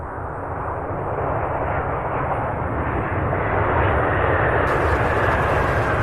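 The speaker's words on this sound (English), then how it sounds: "This one braking pretty fast. Look at that. Those reverse thrusts that stay open very long." A jet airliner landing at Louisville International Airport with reverse thrust deployed, a loud sustained roar of engine noise that swells slightly toward the end as the thrust reversers stay open.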